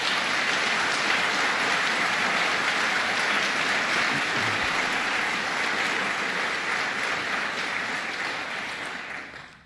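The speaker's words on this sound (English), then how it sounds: "let's give her a big round of applause" A large audience at a governor's public event applauds in a loud, dense, sustained wash of clapping that fades out at the end.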